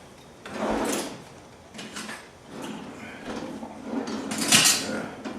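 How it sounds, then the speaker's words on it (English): Small potatoes tossed into a little pan at breakfast prep: a few clattering, rattling impacts of hard round pieces against metal, several bursts spread over a few seconds, close by with no talking. "I just throw them into this little pan"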